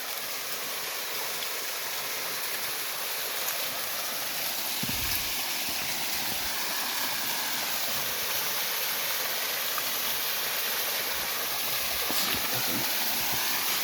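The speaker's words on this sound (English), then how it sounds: "Here is a little waterfall for you guys." A small waterfall on a creek along a greenbelt trail off Ponderosa Way in Magalia, a steady close rush of falling water filling the whole stretch, with a couple of faint bumps.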